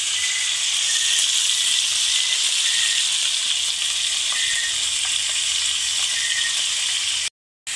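Fish sizzles and fries in a pan, a loud, steady crackling hiss that continues without pause, then cuts out briefly at the very end.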